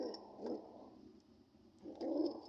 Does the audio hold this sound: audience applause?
no